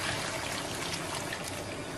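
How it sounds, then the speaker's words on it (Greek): Hot water trickles and splashes steadily into a pot of vegetables on a low-heat stove, a soft, continuous pour heard close up with no voices. "Θα χαμηλώσουμε τη φωτιά μας πάρα πολύ και θα βάλουμε καυτό νερό."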